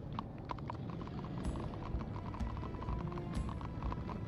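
Horse hooves clip-clop in the Minecraft Story Mode video game, a steady run of light hoofbeats over a dense background hum, with a couple of brief high chirps.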